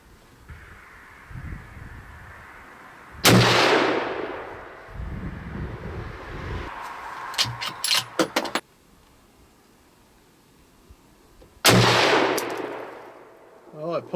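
Two sharp, loud rifle shots from a Daniel Defense Delta 5 chambered in 6.5 Creedmoor, fired outdoors at a range several seconds apart, each a hard crack with a ringing decay, with metallic clicks of bolt handling between them.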